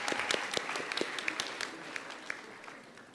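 Scattered, fairly faint clapping from an audience at a school annual awards afternoon, individual claps audible in an uneven patter for a few seconds.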